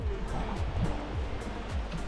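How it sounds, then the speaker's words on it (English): Small waves on a freshwater Lake Tanganyika beach wash and lap in a steady, close rush of water noise across the whole moment, with no voices. "Yeah, this is the water, Lake Tanganyika."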